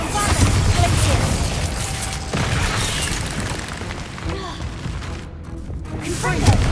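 Bombarda spell blasts in Hogwarts Legacy, a string of loud booming explosions with crashing debris in quick succession, dense and forceful throughout with brief lulls between bursts.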